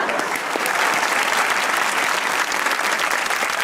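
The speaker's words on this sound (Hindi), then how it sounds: "इनके लिए भी तालियां बजाऊंगा मैं।" Steady, dense applause from a TV comedy talk-show studio audience, a continuous wash of many hands clapping at close range with no pauses, no voices standing out.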